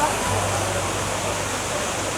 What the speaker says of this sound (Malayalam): ഈ കാണുന്നതാണ് വെള്ളച്ചാട്ടം സെറ്റ് ചെയ്ത് വെച്ചിരിക്കുന്നത്